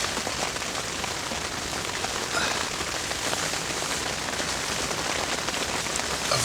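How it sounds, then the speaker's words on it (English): Rain falling steadily and fairly loud outdoors on a cold morning by the water, a dense continuous patter of drops with no talk. "I've had hail and a bit of snow and all sorts this morning, but mainly just rain."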